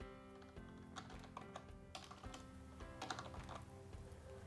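Fingers typing a domain name on a computer keyboard, a run of quick, uneven key taps close to the microphone over a steady low background hum.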